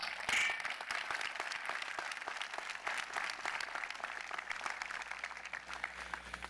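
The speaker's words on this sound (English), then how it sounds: "So let's give us a big round of applause." A crowd applauds at the North Muskegon High School graduation in 2022. The clapping is dense and sustained but faint and distant, holding a steady level from start to finish.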